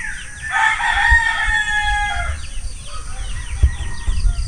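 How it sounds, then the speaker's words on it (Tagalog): A rooster crows loudly and close by in the open air on Burias Island, one long drawn-out call followed by fainter birdsong and outdoor background noise. "Uni ng ibon."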